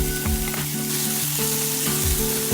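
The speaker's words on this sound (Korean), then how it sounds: "마찬가지로 당근, 양파, 소파를 넣고 숨이 죽을 때까지 센 불에서 볶아주세요" Carrots and onions stir-fry over high heat until wilted, giving a loud, steady sizzling hiss throughout with low pitched tones running underneath.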